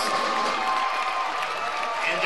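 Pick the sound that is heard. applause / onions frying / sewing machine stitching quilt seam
applause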